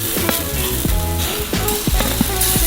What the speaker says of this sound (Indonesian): Di sisi ini goreng 10 menit.